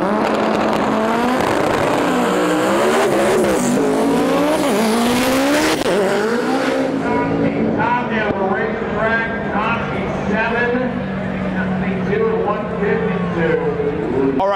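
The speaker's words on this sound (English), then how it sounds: "2JZ battle pulling up right now" 2JZ-powered drag race cars, including a black Toyota Supra, rev and burble loudly at a World Cup Finals import versus domestic drag meet, with rising and falling engine revs close by under commentary and crowd talk.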